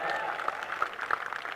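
A poetry recitation audience breaks into a short burst of close, lively clapping, with crowd murmur mixed in.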